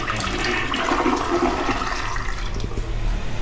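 A water closet flushes after being adjusted, a loud close rush and gurgle of water that stays steady throughout, with no voices.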